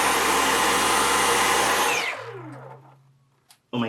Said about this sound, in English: let's see what this will sound like